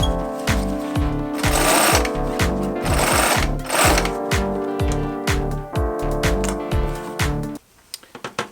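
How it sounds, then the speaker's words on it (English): A sewing machine stitches the liner panel of a giant handmade duffle bag, running in fast rhythmic mechanical bursts with short pauses, close and loud, then stopping into a few sparse clicks at the end. "Now I can sew the liner panel and the flange to the pocket assembly."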